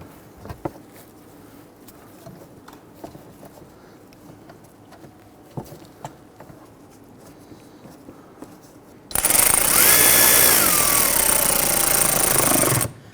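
An impact driver seats screws into headlight duct work on a 2011-2023 Dodge Charger 3.6L V6. Quiet handling clicks and taps are followed by one loud, sustained rattling burst of about four seconds that strains slightly before stopping.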